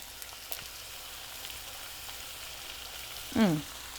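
Green chilies and thinly sliced red onions frying in a pan for a Kerala-style mutton roast, a faint steady sizzle that swells briefly near the end as the ingredients hit the oil.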